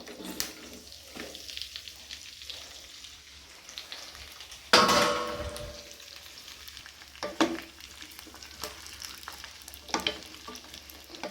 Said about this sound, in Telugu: ఇప్పుడు ఈ పాన్లో నూనె పోసుకుని మనం ఈ చిక్కుడుకాయలన్నీ వేసేసుకుందాం.